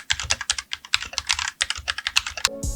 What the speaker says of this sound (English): RK68 from something that sounds like this